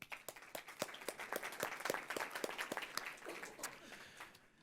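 A small forum audience at a restaurant industry event claps for its supporters, sparse distinct claps forming a brief, fairly quiet round that trails off.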